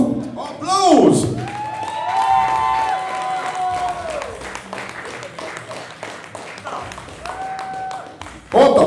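Audience applause at a school rock concert, a burst of clapping and cheering with shouts that swells, then fades while people talk and musical tones sound, followed by another loud burst at the end.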